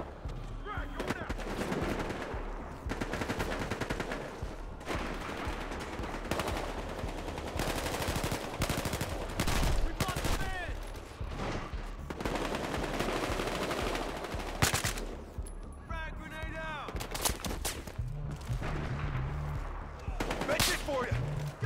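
Rapid bursts of gunfire crackle through a Battlefield Hardline heist match, with dense automatic fire and single shots going off almost continuously, some close and loud, under occasional shouted voices.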